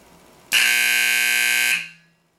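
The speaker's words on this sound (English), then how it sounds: "A brief test. Here we go." A fire alarm gives a single loud, piercing blast about a second long during a brief test. It is close and heard alone, then tails off quickly into silence.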